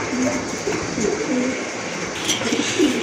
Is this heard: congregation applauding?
no